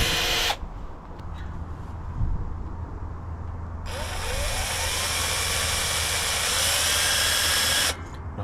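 A cordless drill on a low clutch setting bores slowly into an aluminium mountain bike rim, a loud steady motor whir that starts a few seconds in and holds for about four seconds before stopping, with background rumble around it.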